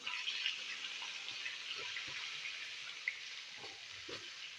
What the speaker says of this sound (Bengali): মাছের তেলেই শুকনা মরিচ দিয়ে দিলাম, দিয়ে বেগুনগুলি দিয়ে দিই ভাজার লেগে